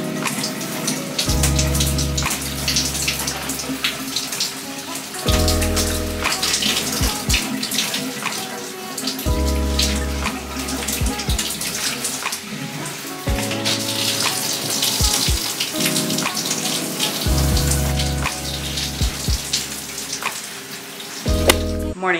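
Shower water running in a home bathroom, a steady broadband rush that continues throughout with rhythmic low thumps and clattering, loud and close, with no talking.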